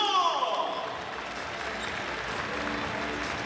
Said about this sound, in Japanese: コートに入っていく選手たちを大きな拍手で迎えましょうか